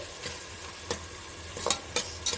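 Tomatoes fry in a pan for a gravy, a soft low sizzle under a few sharp stirring scrapes and clicks from a spatula, close and fairly quiet.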